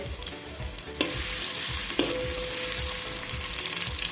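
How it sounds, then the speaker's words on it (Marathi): Chopped onion fries in hot oil and is stirred for a Vidarbha shengule dish, giving a close, steady sizzle with a few sharp scraping strokes of the spoon against the pan. No one speaks. "तेल गरम झालं की त्याच्यामध्ये एक मी कांदा कट करून घेतलाय तो घालायचा आहे आणि या कांद्याला तांबूस कलर येईपर्यंत परतून घ्यायचे"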